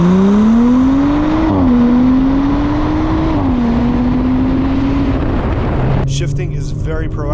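A 2024 Audi S4 engine revs and accelerates loudly up close, its rising tone holding through gear changes for several seconds before easing off, with a brief voice near the end.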